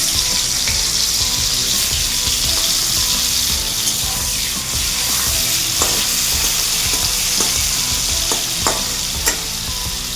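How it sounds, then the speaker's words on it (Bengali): Prawns frying in hot oil in a wok, a steady dense sizzle throughout with occasional sharper crackles and pops, close and fairly loud, no voices. "চিংড়ি মাছ কড়াইয়ের মধ্যে তেলের মধ্যে দিলেই শক্ত হয়ে যায়"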